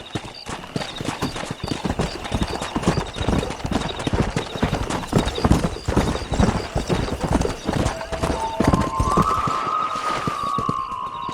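A horse gallops in the PS3 video game Red Dead Redemption, with fast, rhythmic hoofbeats that are loud and close and run throughout, and a rising tonal sound near the end.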